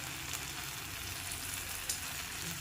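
Butter sizzles and fries in a hot pan for toasting pav for masala pav street food, a steady close crackling hiss with no talk over it.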